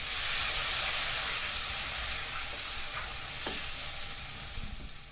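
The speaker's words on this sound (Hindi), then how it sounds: "टोमेटो को कच्चापन निकलने तक हमको सॉटे करके लेना है।" Tomato puree masala with Kashmiri chilli powder sautés in oil in a pan, giving a steady close sizzle and hiss, with a few soft stirring scrapes toward the end.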